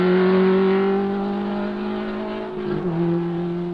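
A race car driven by Ross Sutcliffe climbs the Knox Mountain hill climb in Kelowna, British Columbia, in 1972, its engine holding a loud sustained note, then dipping and revving again as it shifts, heard on old filmed sound.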